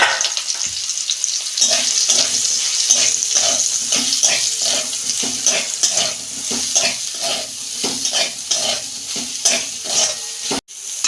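Soybean chunks fry in oil in a wok with a steady, close sizzle, broken by repeated scraping strokes of a stirring utensil in an even rhythm.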